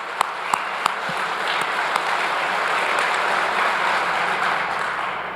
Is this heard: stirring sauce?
no